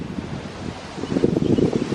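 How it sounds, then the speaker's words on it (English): Ocean waves roll onto a beach on the Ivory Coast in West Africa, a steady broad wash of surf mixed with wind buffeting the microphone, louder toward the end. "these waves."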